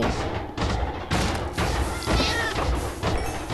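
A cat meows repeatedly in the Minecraft video game, its short mewing calls coming in quick succession, loud and close, with dull game thumps mixed in.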